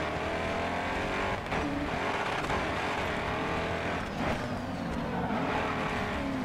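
Race cars roar through a racing game, the engines droning at a steady loud level with brief surges and a squeal of tires, and no voices over them.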